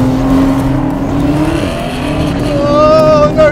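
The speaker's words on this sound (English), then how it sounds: "And that 911 just takes off like a rocket." A 2020 Porsche 911 Carrera S accelerating hard in a drag race against a Camaro ZL1, its engine note rising steadily and loud, heard from inside the car.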